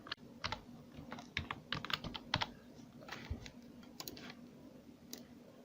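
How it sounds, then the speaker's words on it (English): Typing on a computer keyboard, a fairly quiet, uneven run of close clicks with short gaps over a faint steady hum. "Then from here we will type the text"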